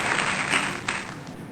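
Crowd applause at a gathering honouring a speaker named Manoj, a dense, steady wash of clapping with a few louder bursts, close and continuous, with no talking over it.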